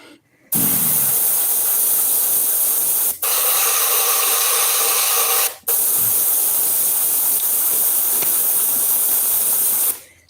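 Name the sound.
airbrush spraying paint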